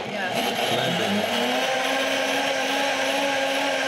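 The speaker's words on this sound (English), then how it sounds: "So this is a blender and juicer." A blender and juicer combo motor runs steadily throughout, a continuous whirring hum at close range with people talking over it.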